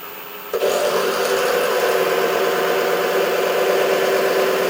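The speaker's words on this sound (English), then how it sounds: "reduce the speed of the lathe to about 800 RPM" A wood lathe spins up at about 800 RPM, set up for texturing and decorating work. It cuts in abruptly after a brief quiet moment and then holds a steady, loud, close mechanical whir with a constant hum to the end.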